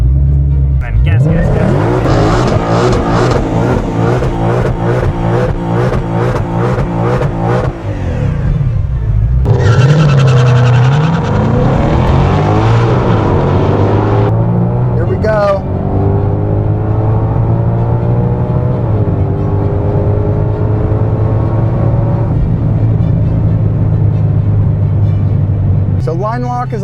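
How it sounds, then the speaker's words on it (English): A 2020 Ford Mustang Shelby GT500 launches and accelerates hard in a straight line, its engine roaring loudly with rising pitch through rapid gear changes, then settling into a steady high drone; a voice talks over parts of it. "So we're about to see how fast it goes down in a straight line."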